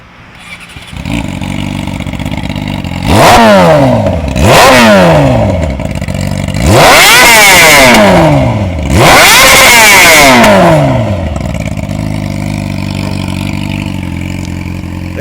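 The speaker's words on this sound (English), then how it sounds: "You about to start up and do a couple revs." A 2006 Yamaha R6 sport bike with a Toce exhaust starts up and revs four times in sharp, loud rising-and-falling bursts, then settles into a steady idle at close range.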